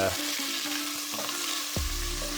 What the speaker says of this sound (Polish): Wrzucamy na rozgrzaną oliwę. I tak sobie niech piści się